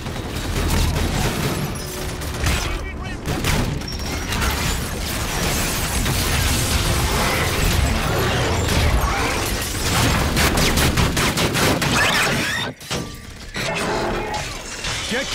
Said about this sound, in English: There's a shotgun mode. I actually like this. It's a reaver.